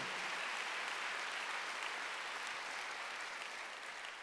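A church congregation at a Wednesday worship service bursts into broad, continuous applause, a dense wash of clapping that stays steady and then eases slightly toward the end.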